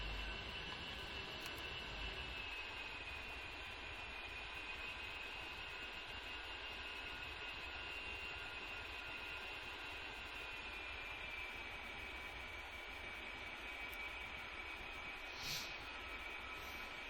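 An A-10C jet taxis in the DCS flight simulator, its engines giving a steady high whine over a constant low rumble, unchanging and fairly quiet throughout with no speech.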